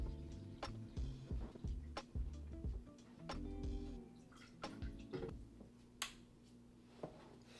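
Pistol shrimp in a home aquarium giving sharp, isolated clicks and snaps at irregular intervals, mixed with faint dripping and tank clatter, fairly quiet overall with no talking.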